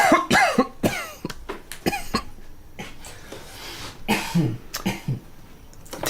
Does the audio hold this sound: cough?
yes